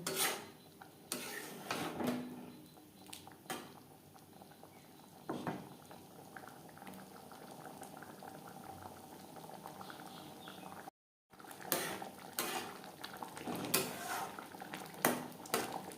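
Sweet raw mango chutney simmers in a pan, bubbling and spattering steadily with occasional spoon clinks and scraping as it is stirred, fairly quiet and close.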